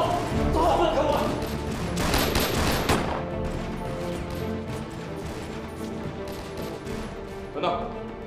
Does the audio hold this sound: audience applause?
no